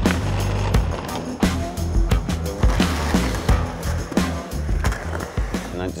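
A skateboard rolls loudly and close through a skate park, its wheels rumbling steadily over the surface and punctuated by repeated clacks and bumps, with no talking.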